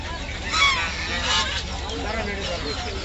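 Geese honk loudly and close by at a busy riverside village market, several calls in a quick burst with more honks after, over a low murmur of crowd noise.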